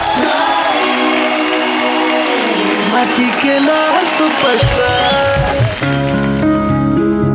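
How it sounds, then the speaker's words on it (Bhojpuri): A studio audience at a singing reality show welcomes a contestant with loud, continuous applause and cheering that fills the whole stretch, blended with music. "जोरदार ताली से स्वागत कीजिए"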